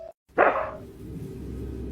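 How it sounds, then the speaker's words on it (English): A dog gives a single short, sharp bark up close, then a quiet room tone follows. "Bro, that's a chupacabra dog."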